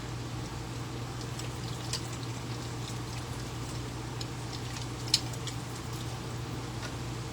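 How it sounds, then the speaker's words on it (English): Water runs steadily from a tap over a tin skillet being rinsed, a constant close hiss and splash with a few small clinks throughout. "Rinse it off."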